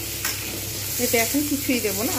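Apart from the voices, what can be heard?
potatoes frying in oil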